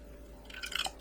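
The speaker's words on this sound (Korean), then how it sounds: "계란을 위에 부어주세요." Beaten egg mixed with dashi, salt and mirin is poured over shrimp and broccoli in a bowl, making faint wet splashing and soft squishy liquid sounds up close in a quiet kitchen.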